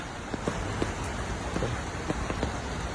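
Steady rain falling on a surface, a dense patter with occasional louder drops, no voices.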